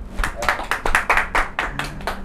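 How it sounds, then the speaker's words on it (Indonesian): Children at a storytelling session clap their hands in a short burst of about a dozen distinct, fairly loud claps in a loose, uneven rhythm, with no talking. "Tepuk tangan."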